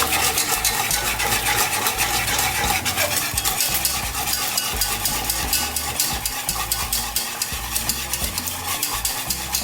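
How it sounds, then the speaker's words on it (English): A whisk beats a mac and cheese sauce in a pot with fast, continuous metallic strokes that rattle close and loud over a faint background hiss. "I'm going to use my whisk now."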